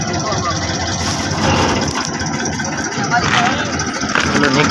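A tractor engine rumbles loudly nearby, chugging and revving as it starts up, while people talk over the noise.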